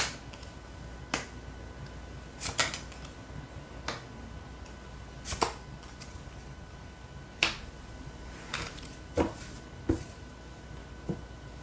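Tarot cards are drawn and handled on a table, giving sparse, sharp little clicks and taps every second or two over a quiet room hush.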